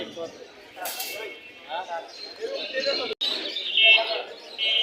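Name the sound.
pigeons cooing at a pigeon market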